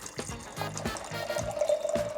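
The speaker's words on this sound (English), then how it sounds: "the water coming out of the tap with the new AR3 UVC filtration system" Water pours from an RV tap fitted with an AR3 UVC filtration system, a close, steady trickling splash into a container that rises slightly in pitch as it fills.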